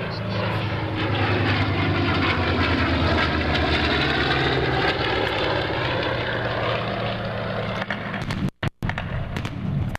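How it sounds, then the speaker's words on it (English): A World War II warbird's V-12 propeller engine roars steadily and loudly in an airshow flyby, a deep droning rumble that holds for several seconds before cutting out abruptly near the end. "the beautiful sound of a V-12 Allison or Rolls-Royce engine"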